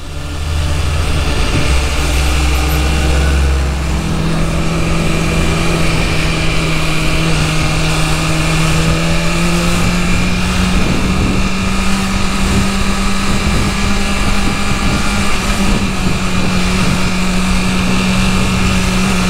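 Continuous engine drone of a new BMW motorcycle while riding, with a steady low hum and a slowly rising tone as the engine is broken in, loud and close with wind rush throughout and no talk.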